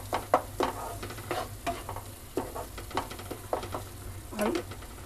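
Spiced masala with kasuri methi frying in ghee while being stirred, a soft continuous sizzle broken by repeated scraping spoon strokes in an uneven rhythm, close and quiet.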